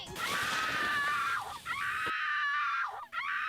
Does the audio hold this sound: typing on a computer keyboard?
no